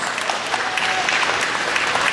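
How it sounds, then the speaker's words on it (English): A crowd at a county fair stage gives a big round of applause, steady clapping that holds evenly throughout at moderate loudness. "Give them both a big round of applause."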